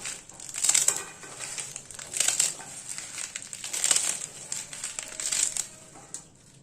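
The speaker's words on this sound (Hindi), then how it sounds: "इसके अब एक्स्ट्रा डंठल को हम निकाल देंगे और इसे भी काट लेंगे" Spinach leaves and stalks being trimmed and cut for Punjabi-style sarson ka saag, giving crisp crunching and crinkling strokes in a few bursts at a steady pace, close and moderately loud with no talking.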